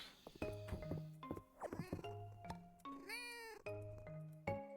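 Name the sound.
cat meowing in the video game Fields of Mistria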